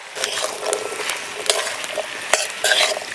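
Mixed vegetables with pumpkin, carrot and Malabar spinach stems being stirred in a pan, with close, busy scraping strokes over a light, steady sizzle and no voices.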